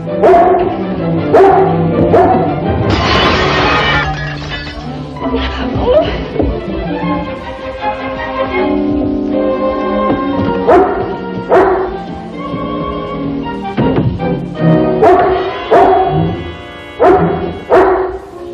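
A dog in a household at night barks repeatedly and loudly in sharp bursts, with some yips and whimpers, while people talk around and between the barks.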